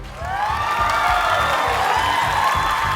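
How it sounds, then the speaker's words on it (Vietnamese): A studio audience on the Vietnamese TV competition Siêu Trí Tuệ breaks into loud, sustained applause and cheering that swells quickly and holds steady, mixed with bright show music. "Cho một tràng vỗ tay."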